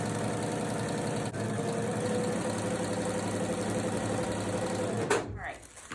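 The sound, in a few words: sewing machine stitching fabric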